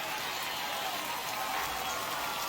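Steady rain pours down on a baseball field during a wet game in MLB The Show 21, a constant dense hiss filling the scene with no voices heard.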